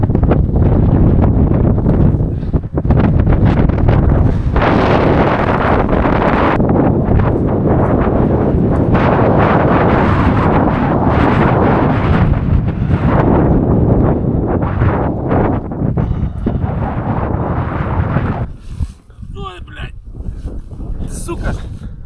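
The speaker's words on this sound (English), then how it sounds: "Get quite windy." Strong wind over open land in the fjords of Newfoundland buffets the microphone in a loud, continuous roar that gusts and briefly drops near the end.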